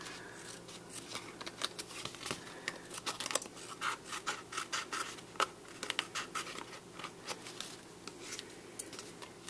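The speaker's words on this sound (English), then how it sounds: "cut off all of these extra pieces that are hanging off" Small Martha Stewart precision scissors trim cardstock paper in quick, quiet snips with light rustling and scraping, a faint, close, irregular series of short cuts.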